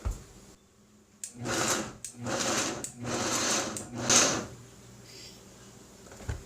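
A Vitamix blender pulses several times to grate cheese into fine crumbs, each burst a loud, rough motor whir lasting about a second, separated by short pauses, close and alone.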